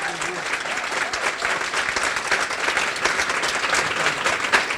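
An audience at an indoor women's honoring event claps in a dense, steady round of applause that stays loud and even for several seconds.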